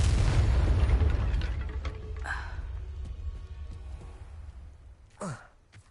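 A Confringo fire spell from Hogwarts Legacy bursts with a loud, booming blast that rolls into a long fading rumble, followed by a few scattered crackles and a brief whooshing sweep near the end.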